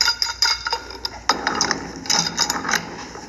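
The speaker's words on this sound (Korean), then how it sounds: "방향만 생각하고 누설 안 될 정도로만 말프렌치로 쭉 조여 주시면 될 것 같아요" A pipe wrench tightens a threaded pipe fitting during hot-water underfloor heating pipework, giving a rapid run of close, metallic ratcheting clicks and clinks in irregular bursts with no talk over them.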